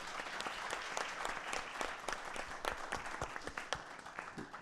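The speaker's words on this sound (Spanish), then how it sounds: "Un aplauso, por favor, para los ponentes." A conference audience at a 2019 breast cancer summit applauds the speakers, with sustained, fairly close clapping carrying a loose rhythm of individual sharp claps from start to finish.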